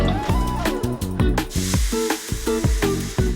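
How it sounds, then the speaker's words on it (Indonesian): Ground spice paste sizzles as it is sautéed in a wok for beef-foot soto, a steady loud frying hiss with stirring, under busy kitchen sounds. "saya memulai hari ini dengan menumis bumbu halus di wajan terpisah"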